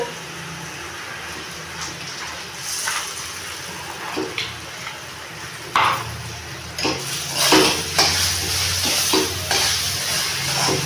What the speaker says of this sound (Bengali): অল্প আঁচে আস্তে আস্তে নাড়তে থাকবো